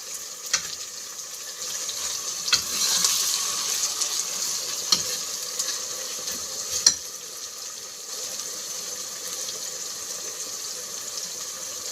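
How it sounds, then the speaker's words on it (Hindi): Onions frying for chicken degi korma sizzle steadily in a pot while a spoon stirs them, with occasional scrapes and clinks against the metal; no one speaks. "बस जो चम्मच है इसको मुसलसल हिलाते रहना है ताकि ये जले नहीं।"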